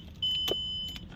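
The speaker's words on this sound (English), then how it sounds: "then you turn on your ignition" Switching on the ignition in a Mercedes-Benz car gives a brief electrical click and whir, then a steady faint hum with a thin tone over quiet cabin background.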